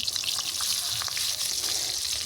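Pieces of rohu fish sizzle in hot oil in a kadai, a bright continuous crackling hiss with small spits and pops, close and fairly loud.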